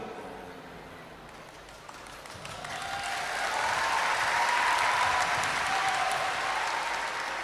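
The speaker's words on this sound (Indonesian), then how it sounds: "Kita berikan tepuk tangan sekali lagi." An audience at a public gathering with a regional official arriving breaks into applause, dense clapping that swells and holds steady, filling the room.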